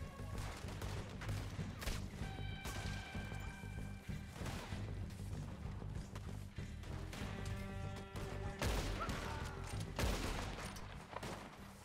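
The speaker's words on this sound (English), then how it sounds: "Where are they shooting from" Repeated gunshots in a Red Dead Redemption 2 shootout, a steady stream of cracks and bangs over a low rumbling game score, moderately distant and fairly quiet throughout.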